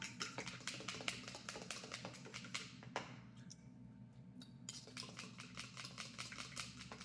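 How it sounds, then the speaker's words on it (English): Utensil stirring muffin batter in a bowl, with nutmeg and cardamom just added: a busy run of quick clinks and scrapes, close and steady, pausing briefly near the middle before picking up again. "we'll give that a stir and a smell"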